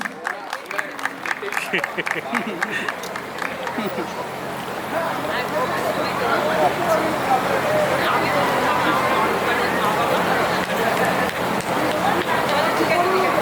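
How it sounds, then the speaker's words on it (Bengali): An audience at a Baisakhi adda cultural gathering claps for the performers. A voice speaks at first, then dense, steady applause swells and holds loudly to the end. "ওদের জন্য একটু জোরে হাততালি হয়ে যাক প্লিজ।"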